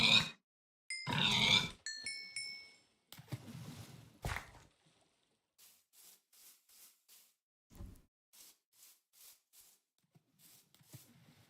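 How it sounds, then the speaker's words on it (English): Pigs grunting in Minecraft, a few loud close snorts early, then a run of short, soft, evenly spaced grunts repeating in the background. "Damn, that's a lot of pigs."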